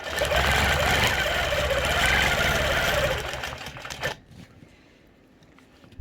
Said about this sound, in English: Now I'm coming back to my baseline, back stitch the rest of the way.